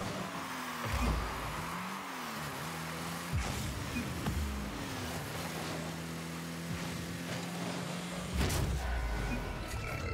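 Rocket League gameplay at medium settings: car engines whine and rise in pitch as the vehicles boost and accelerate, with sharp impact thumps, heard steadily at moderate level.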